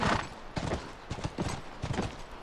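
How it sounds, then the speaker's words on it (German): In the video game The Last of Us, a ridden horse's hooves clip-clop at a brisk pace, a steady, fairly quiet rhythm of hoofbeats with no talk over it. "Das Pferd macht da richtig Tempo hier."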